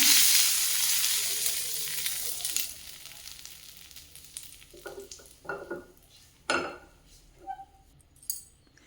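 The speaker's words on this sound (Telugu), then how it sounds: "ఈ తాలింపును పల్లీల చట్నీలో వేస్తున్నాను" Hot tempering with crackled mustard seeds is poured into peanut chutney and gives a loud hiss that fades away. A few scraping spoon stirs and clinks follow against the bowl.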